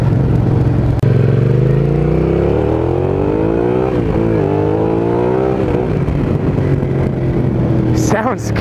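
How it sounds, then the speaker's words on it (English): A Suzuki SV650 V-twin motorcycle engine drones loud and close, its pitch rising and falling as it revs, a throaty steady throb that continues through to the end. "I love the sound of that V-twin."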